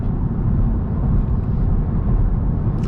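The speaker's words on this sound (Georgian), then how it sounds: "უკვე ძალიან ბევრი ხმა შემოდის მანქანაში. ქარის ხმა, ესე ძრავის ხმა, გზის ხმა." Inside a brand new car moving along a road, a dense, steady low rumble of wind, engine and tyre noise fills the cabin at an even, fairly loud level for about three seconds, with no talk.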